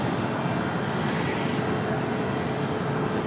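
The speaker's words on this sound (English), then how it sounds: "Nice looking departure there for the Air France" Air France Airbus A350 with Rolls-Royce Trent XWB engines departing, a steady loud jet roar filling the whole clip without a break, with no voices over it.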